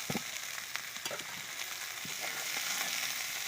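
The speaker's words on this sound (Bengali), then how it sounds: "কড়াইয়ে পেঁয়াজ কুচি, মরিচ কুচি, রসুন কুচি দিয়ে নিয়েছি।" Chopped onion, chili and garlic with leafy greens sizzle in a frying pan as they are stirred, a soft continuous crackle with a few light scraping hits at the start.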